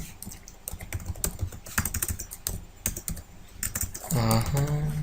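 A computer keyboard being typed on at a rapid, uneven pace while a command is entered for Cisco network setup, with dense clicks close by and a voice starting at the end.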